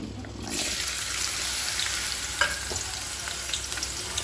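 Small onions (shallots) being tempered in hot oil, a loud continuous sizzle that flares up suddenly and then holds steady, with a few light clinks from a utensil.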